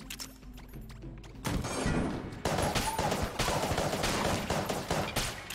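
Rapid bursts of gunfire from the Polaris gun in the twin-stick shooter Enter the Gungeon, loud and dense from about a second and a half in, with crashing impacts layered over a steady game soundtrack.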